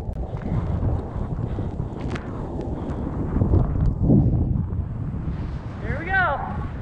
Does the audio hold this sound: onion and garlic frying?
no